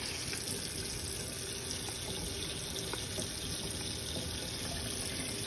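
Water runs steadily into an enema bag as 1,000 milliliters are poured and soap is added, a continuous close splashing flow with no talking.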